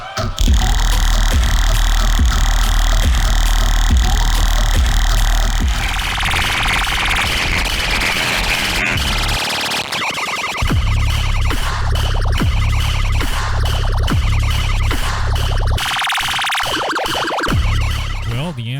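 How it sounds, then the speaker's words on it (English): Boss RC-505 looper running a filter with very high resonance, producing loud, throbbing, whistling electronic tones that shift abruptly between sections, dense and continuous without any voices. "It's actually just a filter with a really high resonance."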